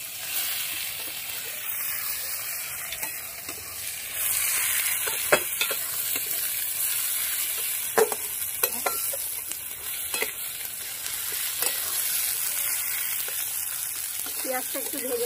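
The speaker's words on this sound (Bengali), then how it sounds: "ঝিরি ঝিরি করে কাটা পেঁয়াজগুলো এবার দিয়ে দেবো।" Thinly sliced onions fry in a little oil in a wok with a steady hiss and sizzle that grows louder partway through, broken by occasional scraping stirs.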